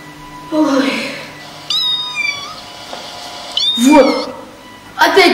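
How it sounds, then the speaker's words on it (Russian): Kitten meowing from upstairs on a rainy night: several distinct, high, drawn-out meows spread through the clip, moderately close and clear, with a voice speaking in between some of the calls. "Либо у меня глюки, либо мяукает наверху."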